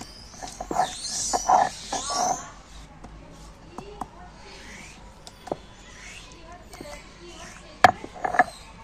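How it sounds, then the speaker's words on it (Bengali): Ginger being crushed and then ground into a paste by hand for a chicken curry, heard as irregular close thuds and gritty scraping strokes, loudest in a cluster at the start and near the end, with quieter scuffs between. "আদাটা প্রথমে থেতো করে নিয়ে তারপর বাটবো।"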